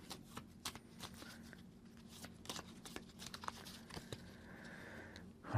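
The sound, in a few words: shuffling a deck of cards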